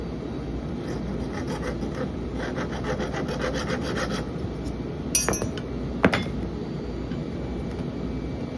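A metal Goodyear logo being cut along its underside, a steady rasping, sawing scrape running throughout with a couple of sharp metallic clinks near the end.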